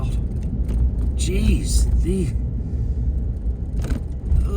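Steady road traffic on the I-70 interstate seen from a bridge, a continuous close rumble of passing cars under a brief spoken exclamation.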